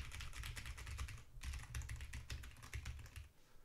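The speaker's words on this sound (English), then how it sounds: "We'll do that keyboard test behind it first." Rapid typing on a computer keyboard, a dense stream of close clicky keystrokes with a brief pause midway, no talking.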